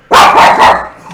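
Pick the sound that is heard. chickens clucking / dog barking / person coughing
dog barking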